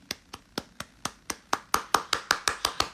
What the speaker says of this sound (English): Should we do one more Cavs clap?